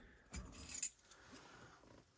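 A set of RV keys for a 2017 Leisure Serenity 24CB Class B Plus motorhome jingles in two brief, close clusters of metallic clinks with no talk over it.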